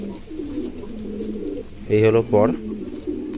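Pigeons held in hand, cooing in two short bursts, close and fairly loud, with a steady low background hum and someone talking around them.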